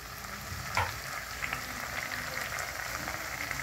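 Cauliflower florets frying in a pan for a creamy malai-style curry give a steady, close crackling sizzle with faint stirring clicks, heard alone without any talk.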